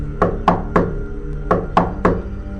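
Six sharp, fairly loud knocks on a door in two groups of three, close by, with short pauses between them and no talking.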